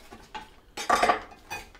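Metal utensils scrape and clink against a plate while carving deep fried turkey, several short close bursts with the loudest scrape in the middle, no talking.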